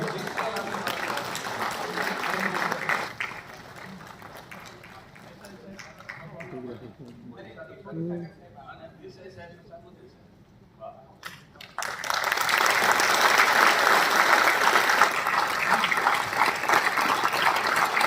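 Audience applauding at a book launch for a biography, a long stretch of dense clapping that follows a speaker's voice and a quieter pause.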